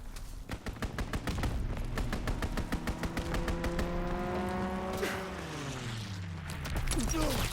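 Rapid bursts of aircraft strafing gunfire in the World War II shooter Call of Duty WW2, loud and rattling over a droning engine that swoops downward in pitch as the plane passes.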